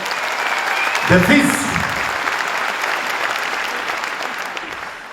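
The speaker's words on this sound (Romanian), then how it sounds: "încă o dată aplauze pentru el" Sustained applause from a comedy show audience in a large hall, honouring comedian Alex Bocanu, steady and full throughout, with a voice briefly speaking over it near the start.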